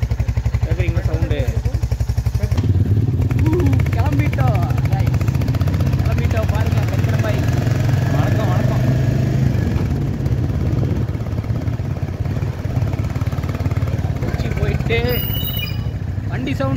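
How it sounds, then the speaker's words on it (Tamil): A motorbike engine drones steadily while riding on a trip to Kochi. The sound is loud and continuous, with constant rumble and wind noise throughout. "வண்டி சவுண்டுக்கு ஒண்ணுமே கேட்க மாட்டேங்குது"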